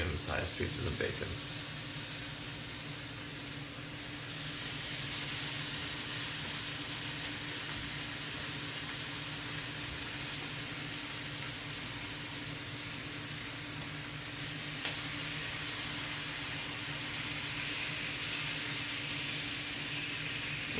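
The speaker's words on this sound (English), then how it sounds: "But right now, we're having 4 medium-sized pieces of bacon." Four medium-sized strips of bacon fry in a cast iron pan, giving a steady broadband sizzle that holds for the whole stretch, with a brief clatter at the start and a small tap midway.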